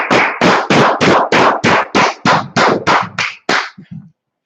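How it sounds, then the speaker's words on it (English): An audience claps at the start of a Biblical law class in Minneapolis, about a dozen loud, close, separate claps in an even rhythm, slowing and thinning out toward the end. "All right, clap it up."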